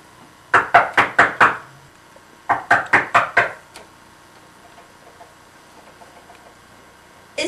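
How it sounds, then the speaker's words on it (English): Two quick sets of five sharp knocks, loud and close, serve as a door-knocking sound effect in a Macbeth sock puppet play, followed by a quiet pause. "Our knocking has waked him."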